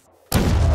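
A rocket explodes in Half-Life 2: Deathmatch, a sudden, loud, close boom that cuts through near-silence and rumbles on heavily to the end.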